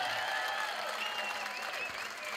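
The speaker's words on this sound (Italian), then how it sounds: "per favore, un altro applauso per Alessandro Masala." Dense applause from a large crowd, steady and loud throughout, with faint voices mixed in.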